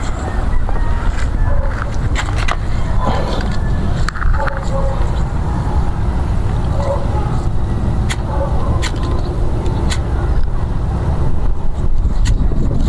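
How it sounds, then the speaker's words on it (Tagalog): Strong outdoor wind buffets the microphone in steady low rumbling gusts for the whole stretch, with faint voices in the background. "lakas ng hangin"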